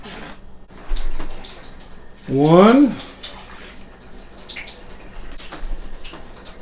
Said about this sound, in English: now I'm going to add 4 cups of water